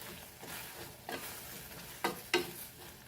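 Onion, tomato and potato fry in a pan for Goan prawn chilli fry while a spoon stirs them, a soft steady sizzle broken by a few sharp scraping strokes near the end.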